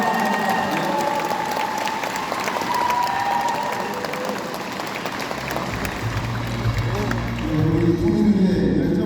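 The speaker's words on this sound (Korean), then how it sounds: "다시 한번 함성과 함께 큰 박수 부탁드립니다" At a provincial governor's town meeting with Goheung county residents, a large crowd claps and cheers. The applause swells under a speaking voice, then gives way to a loud, sustained roar near the end.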